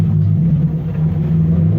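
A vehicle engine pulls in first gear during a gear-ratio test, giving a loud, close, steady low rumble that holds throughout the short stretch.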